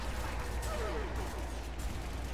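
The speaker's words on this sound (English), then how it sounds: "Oh, I'm taking fire." Dense, continuous gunfire rumbles through a horde battle in the video game Zombie Army Trilogy, with low booming bursts blending into a constant loud wash.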